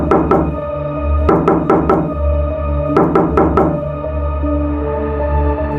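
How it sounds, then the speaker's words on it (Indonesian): Sharp knocks sound in quick clustered groups of three or four, loud and close, over a steady low droning hum, as a knocking effect in an eerie tale set in a hidden village in the forest. "aku masih mendengar ketukan itu"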